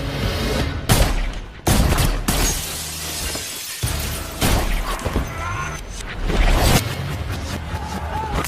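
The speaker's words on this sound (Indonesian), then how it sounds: "menyerang dengan ciri khasnya, yaitu tembakan jarak dekat" Repeated sharp close-range gunshots and crashing impacts in a John Wick fight scene, loud and close, arrive in bursts with shattering debris between them.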